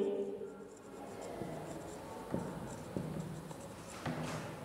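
Chalk or marker writing on a classroom board during an English grammar lesson, a steady scratchy stroking with a few sharper taps, fairly faint and alone.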